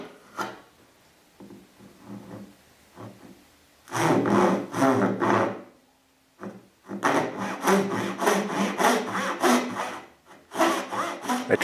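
A hand saw cuts half-blind dovetails in wood, with rhythmic back-and-forth rasping strokes, a few light starting strokes and then steady close bursts broken by brief pauses.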